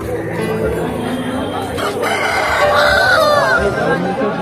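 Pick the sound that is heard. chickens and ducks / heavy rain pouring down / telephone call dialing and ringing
chickens and ducks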